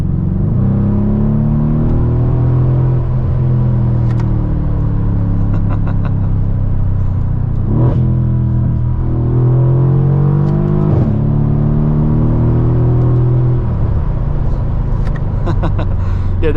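Mercedes W212 E63 AMG with 4MATIC all-wheel drive, its engine rumbling and rising repeatedly through gear changes as it accelerates, loud and close from inside the cabin, with faint bits of talk.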